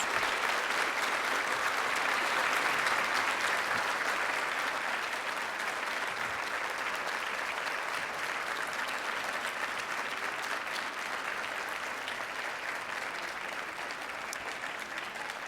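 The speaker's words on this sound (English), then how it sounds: "Let's give all three of our participating candidates a round of applause" Sustained applause from the audience at a West Virginia Democratic gubernatorial forum, honoring three participating candidates; a dense, steady clapping wash that fades slightly over its length with no talk over it.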